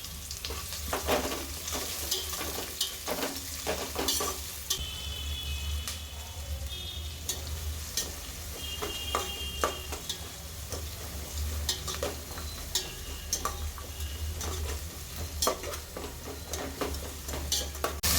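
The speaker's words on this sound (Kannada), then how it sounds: "ಅದನ್ನ ಹಾಕಿ ಚೆನ್ನಾಗಿ ಫ್ರೈ ಮಾಡ್ಕೊಳ್ಳಿ ಈರುಳ್ಳಿನ" Onions frying in oil with spices, with a steady sizzle and repeated stirring and scraping clicks from a spoon against the pan, fairly close and moderately loud throughout.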